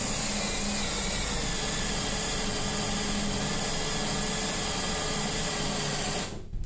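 A drill bores steadily into a Volvo C30 race car bodyshell, giving one loud continuous grinding whine that cuts off abruptly at the end.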